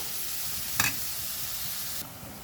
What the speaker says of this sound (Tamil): அதையும் சேர்த்து நல்லா வதக்கி எடுப்போம்.